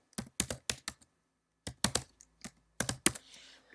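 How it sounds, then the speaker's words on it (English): Keystrokes on a computer keyboard during a Mac software setup, heard close and clear in several quick bursts separated by short pauses, with no talking. "Centrify.vms, Diana Worth, and type in the password."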